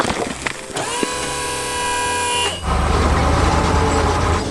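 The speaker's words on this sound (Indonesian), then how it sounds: "Truk biru melaju kencang membawa beban berat." A blue truck carrying a heavy load drives fast, giving a sustained horn blast followed by a loud, close engine roar, with no talking.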